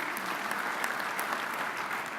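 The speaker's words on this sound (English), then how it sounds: "Please feel free to clap." A conference audience gives a steady round of applause for a legislative achievement, dense clapping held at an even level throughout with no voices standing out.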